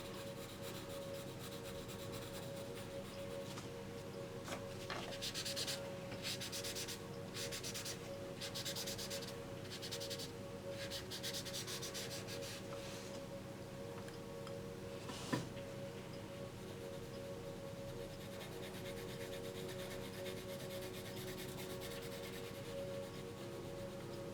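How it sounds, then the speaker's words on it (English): Dry tissue rubbing over a top layer of colored medium to blend it, a steady soft scrubbing texture with brief brushing bursts and one small tap, close and quiet, no talking. "this tissue is dry, but I am just pretty much rubbing on the top layer with it, and it does blend it a little bit"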